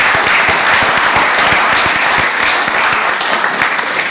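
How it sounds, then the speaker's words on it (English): Loud, sustained applause from a large crowd at a city council meeting, a dense wash of clapping that holds steady throughout. "I want to recognize and ask for a round of applause for Captain Kevany as well."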